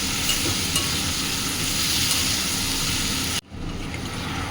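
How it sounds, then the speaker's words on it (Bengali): Potatoes and other ingredients frying together in a pan for a Bengali meat and pea curry, a steady close sizzle and stirring that runs unbroken, then cuts out sharply near the end and resumes more quietly. "আগে শুধু আলুটা আর এগুলো সব একসাথে ভেজে নিচ্ছি"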